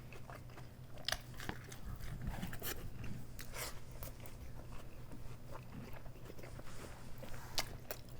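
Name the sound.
biting and chewing a crunchy beef taco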